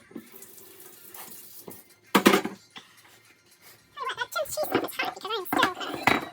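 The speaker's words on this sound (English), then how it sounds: "I'm gonna rinse off my microplaner." A microplane grater, used on ginger, is rinsed under a kitchen tap: a brief gush of running water, then a longer stretch of splashing and clattering at the sink, close and moderately loud.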